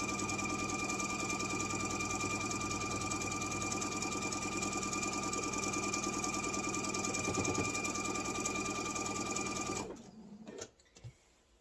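A sewing machine stitches apron fabric toward a corner in one steady, loud, continuous mechanical whir that runs for about ten seconds, then stops abruptly, leaving a few faint handling clicks.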